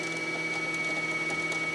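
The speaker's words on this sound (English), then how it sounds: "we're going to put our foot on the pedal, which is on the floor, and we're going to start winding our bobbin." A sewing machine winds its bobbin under foot-pedal control, giving a short, steady, even motor whir with a faint mechanical rattle. It stays close and moderate in level, with no talk.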